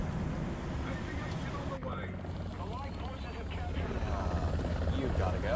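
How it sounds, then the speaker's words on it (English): A helicopter in War Thunder thumps and whines steadily, rotor noise loud and close, with a brief cut partway through and a player talking over it throughout. "let's grab a helicopter"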